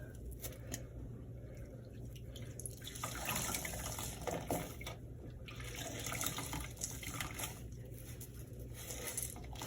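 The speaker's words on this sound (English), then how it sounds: "Those are going to be our water sounds" Running water from a tap or sink, captured as a sound-design ambience recording, a steady broadband wash with splashing that swells louder after the first few seconds and continues alone without talk.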